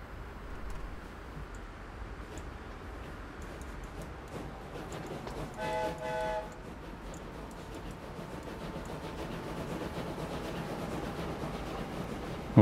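A steam train on a museum railway in the game Train Fever rumbles steadily, with a continuous rolling drone and a brief tonal whistle-like passage midway.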